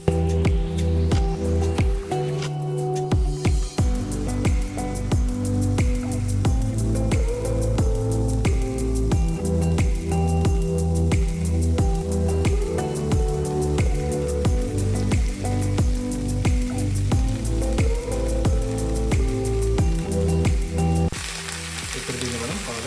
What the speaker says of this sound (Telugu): దీంట్లో మనం ఇప్పుడు తోటకూర యాడ్ చేసుకొని కలుపుకుందాం.